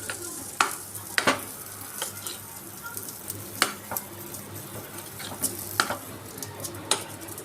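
Gourd kootu is stirred in a pan with a spoon, giving soft repeated scrapes and clicks against the metal over a faint low sizzle, close up with no voices.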